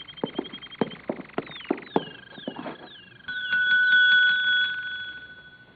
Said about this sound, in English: There's a bell over in the desk.